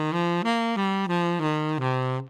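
A melodic instrument plays a short stepwise pentatonic scale run of six sustained notes, evenly spaced, each clear and close, with no voices.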